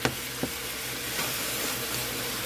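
Ground chuck sizzles in a hot skillet, a steady close hiss of frying meat with a couple of soft clicks near the start as it is chopped up. No one speaks.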